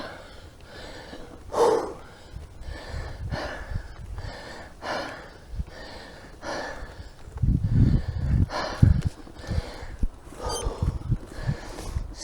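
Heavy, labored breathing from a walker climbing a steep hillside path in rural Somerset, rhythmic breaths and snorts close to the mic with faint footsteps underneath.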